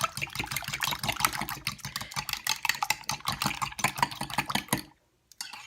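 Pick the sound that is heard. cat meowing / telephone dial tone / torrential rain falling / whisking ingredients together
whisking ingredients together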